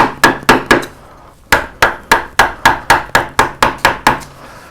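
Wood carving with a number 10 U-shaped gouge: a mallet strikes the tool in a close, loud, steady series of sharp knocks, about fifteen blows with a short pause early on.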